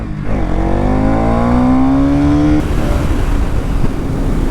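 A Bajaj Pulsar NS200 BS6 motorcycle held near top speed on a road, its engine droning loud and steady with rising pitch, then a shift to rushing wind and road noise.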